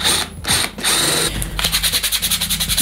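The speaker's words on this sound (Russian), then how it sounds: "А центральное отверстие сверлим более крупным сверлом." A power drill bores a central hole with a larger 8 mm bit, heard close and loud: a steady whirring grind that turns into a fast, rhythmic ratcheting chatter as the bit bites, with no voices.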